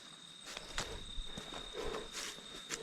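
Soft footsteps following behind, a few faint scuffing steps spaced irregularly over quiet background noise with a steady insect-like whine, no voices.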